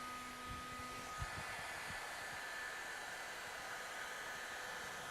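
A heat gun blows steadily while warming vinyl wrap film into a recess during vehicle wrapping, giving a continuous airy hiss with faint low thumps, moderately close and without talk.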